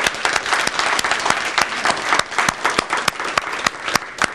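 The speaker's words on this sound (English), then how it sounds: "we want to give you a big round of applause" A school audience of children and adults breaks into dense, lively applause, many hands clapping together in a close, steady wash that keeps up without pause throughout.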